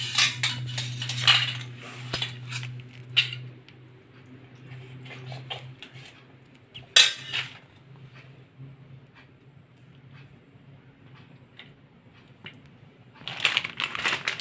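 Maggi noodles being served from a pan onto a plate, with scattered clinks and scrapes of metal utensils against cookware, bursts of clatter separated by quieter stretches.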